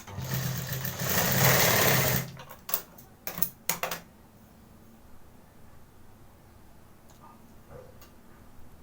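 A sewing machine stitching the joint of a blouse belt, a close, loud whirring run of about two seconds, then a few short clicks and taps before a quiet room.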